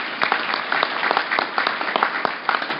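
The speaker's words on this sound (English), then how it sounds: "I think that deserves a round of applause." An audience applauds at a California State Lands Commission meeting, producing a dense, continuous wash of clapping at fairly close range with no break.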